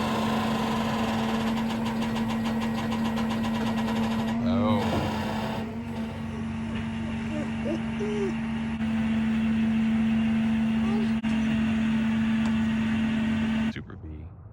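A 1970 Dodge Super Bee engine runs continuously as it is unloaded from a car hauler, a steady hum with a loud whine and shifting rumble, while people talk over it before it cuts off near the end.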